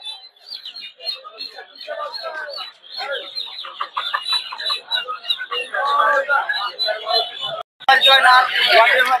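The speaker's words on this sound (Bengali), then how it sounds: "এগুলো হচ্ছে টাইগার মুরগি" Tiger chickens clucking at a poultry and bird market in Narsingdi, close rapid clucks and chirps in quick bursts throughout, with a voice talking over them.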